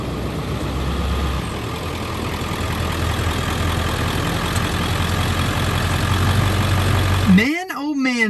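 A Ford F350 pickup's engine runs steadily with a loud, continuous low rumble close by, then cuts off abruptly near the end, leaving a brief sound that swoops up and down.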